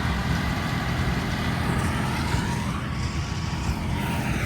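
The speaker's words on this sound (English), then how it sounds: "That's the spraying tractor on the baler." A tractor pulls a baler steadily through a field of row crops, its engine a constant low rumbling drone with machinery noise, heard throughout without talk.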